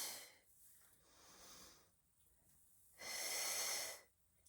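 A deep seated Pilates breath: a long airy inhale, a pause, then a longer, louder exhale through the nose or mouth, close and alone with no talking.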